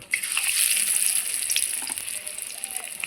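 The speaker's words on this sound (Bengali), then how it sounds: "দেখুন আমার এক এক করে কি সুন্দর বড়াগুলো ভাজা হচ্ছে।" Battered shiuli (night-jasmine) leaf fritters frying in hot oil in a wok, a steady bright crackling sizzle with fine popping bubbles, close and fairly loud, easing slightly toward the end.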